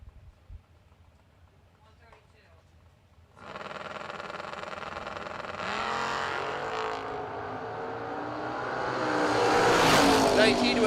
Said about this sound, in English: Taking on Daryl Tillman. 63 Corvette.